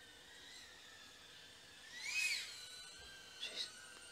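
A DJI Avata FPV drone whines with a thin high-pitched buzz that rises as it passes close around the middle, then fades back to a steady distant hum with a brief swell near the end.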